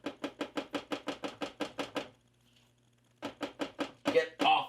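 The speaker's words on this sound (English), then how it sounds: "So I'm just going to give it a good stir regardless." Melting chocolate is stirred in a crock pot: a quick, even run of about a dozen scraping strokes, a short pause, then a few more strokes with a voice over the end.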